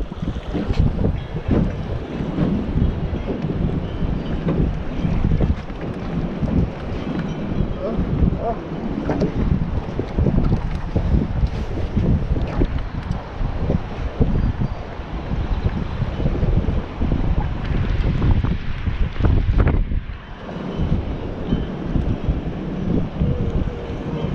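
Strong wind buffets the microphone on a fishing boat out on open water, a continuous rough rumbling roar with gusts throughout.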